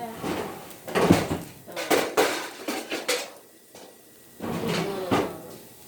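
A small metal pizza pan clatters and scrapes as pizzas wrapped in foil go onto it and it is slid into an oven preheated to 325, with several sharp metallic clanks and knocks up close and some faint talk between them.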